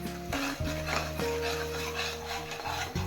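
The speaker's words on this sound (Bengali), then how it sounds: "পেঁয়াজ আর বাদাম বাটা 2 থেকে 3 মিনিট ভালোভাবে ভেজে নেব।" Onion and nut paste frying in oil, stirred in a pan with a spoon scraping and rubbing steadily against the metal while tonal music plays underneath.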